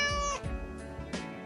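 A cat gives a couple of short, close meows in quick succession, with a faint background hum underneath.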